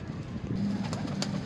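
A pet pigeon coos in low, soft repeated notes, close by, with faint background noise and no talking.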